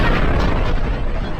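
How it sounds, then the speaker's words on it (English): A deep, sustained explosion rumble portraying a massive star collapsing into a supernova, loud and dense with low-end boom for about a second and a half, no voices. "it collapses, triggering a supernova explosion."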